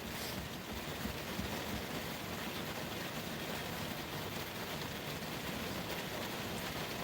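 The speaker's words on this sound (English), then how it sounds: "Man, listen to that rain." Steady rain pours as an even, dense hiss that fills the whole stretch without a break, heard in bad weather near the Pacific Coast Highway with no talking over it.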